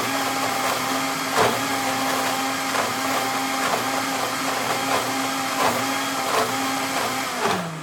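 A Vitamix blender runs at full power blending cashews into a thick sauce, a loud steady motor roar with periodic surging thumps as the mixture churns, heard close with no voices.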